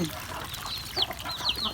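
Chickens and ducks cluck and chirp at a rural Thai farmyard during morning feeding, a few short near calls scattered over steady background noise, with no voices.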